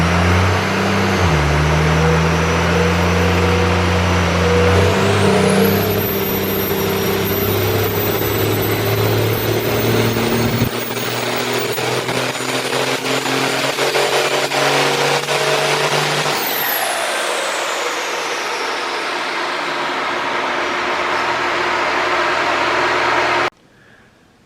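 First-generation Cummins diesel truck running on a dyno, its engine loud and close. It builds and holds steadily, with a high whine rising midway, before the roar drops away and cuts off near the end.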